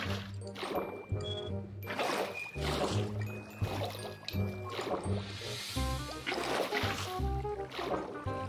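Water being scooped up and poured in Minecraft, a series of liquid sloshes and splashy pours recurring throughout, mixed with busy game sound and background music.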